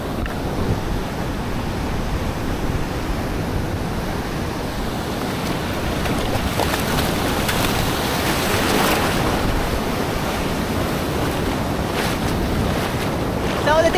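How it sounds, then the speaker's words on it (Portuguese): Ocean surf with glassy, windless waves breaking around a bodyboarder, a steady loud wash of water and rushing noise that swells in the middle, with brief muffled voice sounds. "Essa onda tem força pra caramba."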